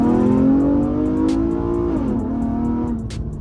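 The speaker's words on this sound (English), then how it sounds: "I'm finna downshift in the first" Chevrolet Camaro engine heard from inside the car, a loud sustained drone climbing in pitch, then a quick drop and recovery as it downshifts on a curve, with faint ticking clicks over the top.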